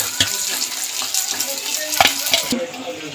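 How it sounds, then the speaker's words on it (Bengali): Potato pieces fry in hot oil with salt and turmeric while being stirred, giving a steady crackling sizzle broken by sharp scraping clicks of a utensil against the pan. "এবার ওই গরম তেলের মধ্যে আলুটাকে দিয়ে একটু নুন, একটু হলুদ দিয়ে নাড়াচাড়া দিয়ে আমি প্রথমে ভেজে নেবো"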